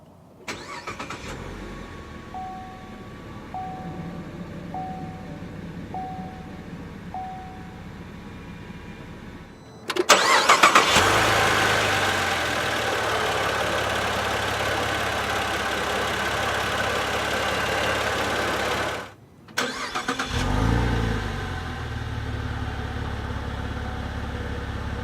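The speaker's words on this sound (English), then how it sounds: "let's go ahead and start her up and let her run" A 2011 Saab 9-4X Aero starts with a push button, firing into a loud broadband engine roar that settles into a steady idle, a brief drop near the end before it carries on running, with no talk.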